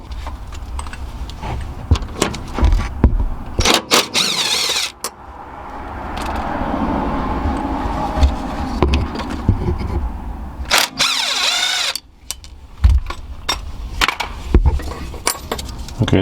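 Ratchet clicks and metallic tool clatter as 10mm bolts are loosened on the ABS bracket of a Honda Accord during an axle replacement, with irregular close knocks and a steadier mechanical whir in the middle, no talk.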